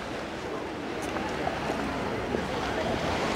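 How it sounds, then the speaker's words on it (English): Ocean waves breaking on the shore at Lyme Regis, Dorset make a continuous broad wash of surf mixed with wind buffeting the microphone, steady and fairly loud with no distinct individual breakers. "you can hear the waves"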